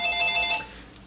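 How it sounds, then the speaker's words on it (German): A telephone rings indoors, a loud, bright electronic trill for about half a second before cutting off into quiet room tone. "Und ja, klingelt's Telefon."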